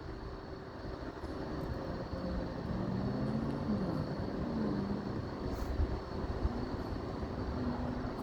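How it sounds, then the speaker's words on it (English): Distant train horn sounding a long drawn-out tone for a crossing, faint and steady over a low rumble of rail traffic and background ambience. "Let's hear the train blow for the crossing."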